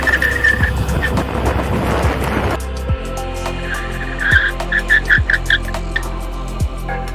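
Nami Burn-E Viper electric scooter ridden hard: a rising whine and tire scrub give way to a steady motor hum with repeated sharp chirps and clicks, close and loud.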